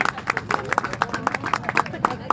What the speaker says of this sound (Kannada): ನಿಮಗೊಂದು ಜೋರಾಗಿರ್ತಕ್ಕಂಥ ಚಪ್ಪಾಳೆ ಬರಬೇಕಾಗಿರ್ತಕ್ಕಂಥದ್ದು